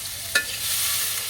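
Pointed gourd fries in hot oil in a village kitchen, a close, steady sizzle with one sharp stirring scrape near the start.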